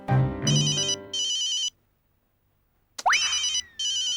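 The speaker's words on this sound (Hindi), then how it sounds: "अंजलि का फोन आ गया।" A phone ringtone plays in repeated electronic bursts, pauses in silence, then starts ringing again, clear and fairly loud.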